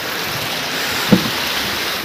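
At Perwaghag Waterfall, falling water rushes in a constant, full-bodied roar close by, with a brief thump near the middle and no speech.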